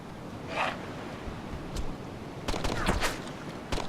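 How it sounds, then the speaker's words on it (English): A few sharp gunshot cracks in DayZ, fairly faint and distant, scattered across a quiet stretch with a small cluster near the end. "I'm getting shot at"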